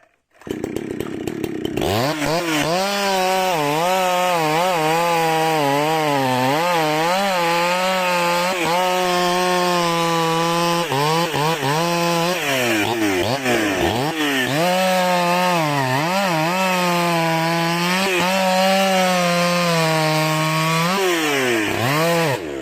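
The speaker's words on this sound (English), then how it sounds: "The sharp blade bites deep into the wood with a powerful screech" A chainsaw with a long blade cuts steadily through the wood of an uprooted tree in a large garden, its loud, continuous whine rising and falling in pitch as the chain bites and strains.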